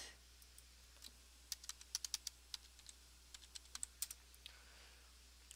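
Quiet typing on a computer keyboard, a sparse run of light, crisp key clicks that bunch into quick bursts, close up in a still room with no voices.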